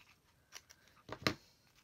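Scissors cutting paper scraps for a junk journal: a few faint snips and rustles, then two louder close cuts near the end, in a quiet room without speech.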